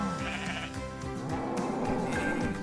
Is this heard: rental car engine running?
no